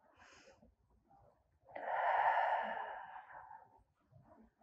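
A long, audible exhale during a gentle seated stretch, a breathy rush of air swelling and fading over about two seconds, with softer breathing before and after.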